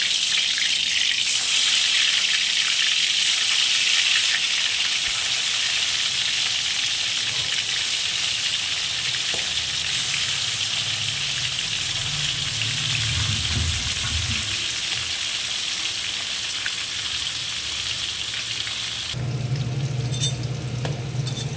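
Rita fish pieces rubbed with oil frying in a pan, a loud, dense, unbroken hiss of hot oil lasting throughout, with a low rumble partway through and no talking.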